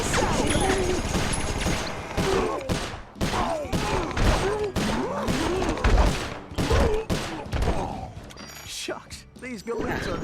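Gunfire in the video game Sly Cooper 4: rapid bursts of shots and mechanical clatter in a dense, loud action sequence, heard under and between voiced character talk.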